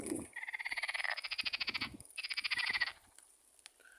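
A frog croaks in two rapid rattling trills, a pulsing series of notes, the second burst shorter, followed by quiet with a faint chirp.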